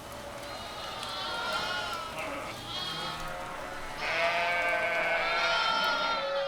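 Sheep bleat on a family sheep and cheese farm in Spain, with two drawn-out, wavering calls standing out clearly over a low background hum, the second louder and closer.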